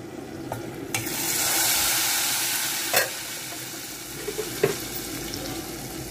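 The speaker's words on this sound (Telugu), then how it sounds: "ఇప్పుడు పోపు వేసేసుకుందాం ఇందులోనే." Hot tempering is poured into tamarind leaf dal, giving a loud sudden sizzle that swells then fades, followed by a few spoon clinks against the pot.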